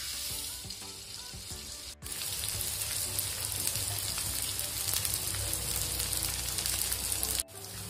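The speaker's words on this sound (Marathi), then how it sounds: "आता आपण याच्या डिंक तळू।" Edible gum (dink) frying in hot oil for methi laddoo, a dense, steady crackling sizzle heard up close and fairly loud, briefly cut by two short dropouts, with no voices.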